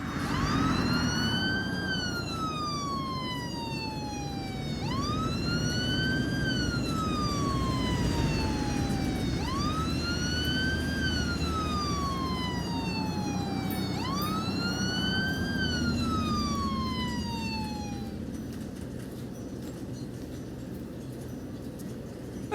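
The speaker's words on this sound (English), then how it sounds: "let's just take a moment to look at this police car" Police car siren in the Cities Skylines 2 city-building game, a loud wailing tone that sweeps up and falls slowly in repeated cycles over steady traffic rumble, with no talking.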